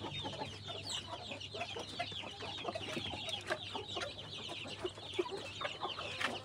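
A flock of chickens with a white rooster clucks continuously nearby, overlapping calls forming a busy, chattering background with occasional louder squawks and a low steady hum underneath.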